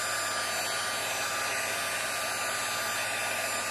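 A hair dryer runs steadily at close range, blowing to dry stamped background ink on a craft project, a constant even whoosh with no talking.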